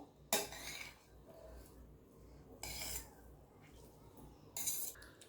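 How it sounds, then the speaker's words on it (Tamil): Spoon scraping and stirring cooked rice with chopped coriander leaves in a metal pot for a vegetable lunch dish, heard as three short, close scraping strokes separated by quiet pauses. "இப்போ இதையும் சேர்த்து நல்லா மிக்ஸ் பண்ணி விட்டுக்குவோம்"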